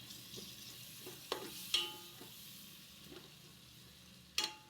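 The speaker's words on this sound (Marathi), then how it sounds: "आता हे टोमॅटो आपण छान असं परतून घेऊया" Finely chopped tomatoes with turmeric being stirred in a hot pan, heard as a soft continuous sizzle with a few sharp spoon knocks and clinks against the pan, close and without talk.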